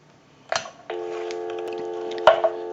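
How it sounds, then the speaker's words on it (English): A steady telephone dial tone on a WE 202 rotary telephone starts after a couple of clicks, with another click partway through as the tone continues. "So we'll go ahead and turn on the amplifier and give you some dial tone,"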